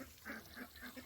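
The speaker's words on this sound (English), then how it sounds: "We got 2, 4, 6, 8, 10 ducks I see." Ducks on a small pond give short, repeated quacking calls at a moderate distance, about four bursts in a loose rhythm over a faint outdoor background.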